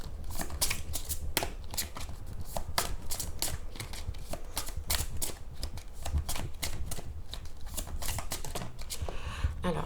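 Oracle cards are shuffled steadily in a dense run of quick, papery riffles and taps, close and moderately quiet for ten seconds.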